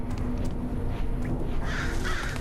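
Birds caw faintly a few times in the video game Thief, a couple of short calls set against a steady low ambient rumble.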